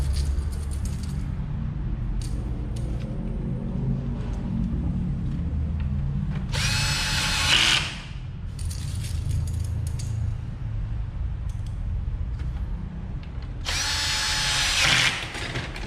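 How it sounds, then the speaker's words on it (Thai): A 4 Energy cordless battery drill, torque set around 9, whirs in two short high-pitched bursts over a constant low background hum, with faint clicks in between. "ใช้เป็นสว่านแบตเตอรี่ของ4 Energy"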